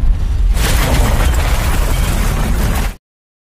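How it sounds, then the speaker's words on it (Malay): A bomb blast from the action film Triple Threat, a loud, dense roar that bursts in abruptly and sustains a heavy low rumble for about two and a half seconds before cutting off into silence. "sebelum bom meledak"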